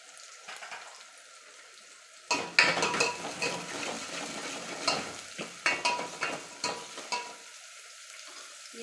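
Curry leaves, onion and green chilies hit hot oil with a sudden loud sizzle, followed by scraping and stirring clatter in a pan up close, with no talk.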